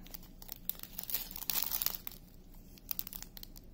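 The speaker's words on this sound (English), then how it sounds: "Now, let me tape this together." Adhesive tape torn from a roll and pressed down during a diamond painting unboxing: soft crinkling and tearing rustles, swelling in the middle, then sparse small crackles, close and quiet, with no voices.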